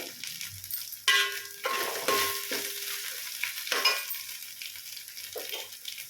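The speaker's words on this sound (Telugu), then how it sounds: "కడిగి ఉంచిన రైస్ రైస్ అయితే వేసేసుకుందాం ఇప్పుడు" Soaked, washed rice tipped into a hot pan while making bagara rice, giving sudden sizzling bursts followed by scraping and stirring, close and fairly loud with no talk.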